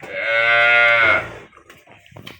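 A young desi cow, a heifer with four teeth, lets out one loud, close, low moo lasting about a second, followed by faint rustling and scattered background noises at a cattle market.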